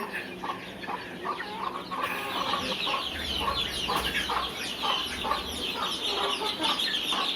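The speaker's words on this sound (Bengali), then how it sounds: "এখানে অনেক মুরগি আর হাঁস আছে" Chickens at a farmhouse clucking steadily in a busy, overlapping chorus of short calls, close and continuous, with no voices.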